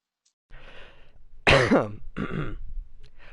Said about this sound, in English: I'm clearing my throat while I mute my microphone